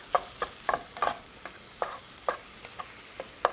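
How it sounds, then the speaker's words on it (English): Ground beef sautés in a pan, its soft sizzle underneath a rhythmic series of distinct spatula clacks and scrapes against the pan, about a dozen strokes spaced irregularly. "You can hear the sizzle of the meat, which means all of that fat rendering is starting to burn out."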